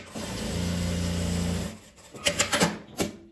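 A domestic sewing machine runs a steady, continuous stitch across small fabric scraps for about a second and a half, then stops, leaving a few short handling clicks and rustles.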